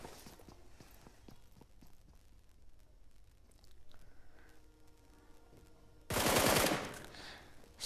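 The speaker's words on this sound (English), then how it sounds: "Shots going from Team 2's side." Gunfire in the Battlegrounds video game during a team match, heard as a scatter of faint distant shots and steps before a loud close burst of automatic fire near the end.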